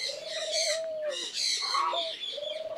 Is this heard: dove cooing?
yes